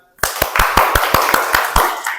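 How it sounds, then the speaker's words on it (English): An audience at a speech-making event claps in loud, evenly spaced unison beats. Roughly nine sharp, close claps ring out one after another in a steady rhythm after a short silence. "let's convert what you had just now, like want to clap like this, want to clap very loud, into one resounding round"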